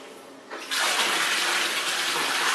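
Water from a garden hose surges on with a sudden rise into a steady, loud rushing flow, used for clearing an airlock in a spa line.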